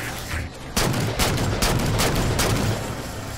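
Several sharp light rifle shots ring out in Halo 4, spaced bursts of cracking fire over a dense combat background, with no talking.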